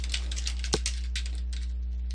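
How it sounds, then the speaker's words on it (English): Rapid, light clicking of keys on a computer keyboard, an irregular patter of individual keystrokes with one sharper tap, close and fairly quiet over a steady low hum, with no speech. "I'm just going to type a little bit of content on here."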